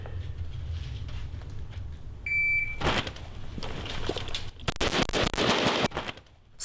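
Rifle fire from soldiers running a close-quarters-combat shooting drill at a Korean army brigade range: a brief tone, then a loud, dense string of sharp overlapping shots, with a short pause before a heavier volley.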